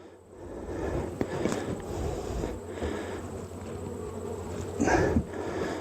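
Honeybees hum around an open hive during a move to new quarters, a steady, dense drone that sits close throughout, with brief rustling bursts and a louder swell near the end.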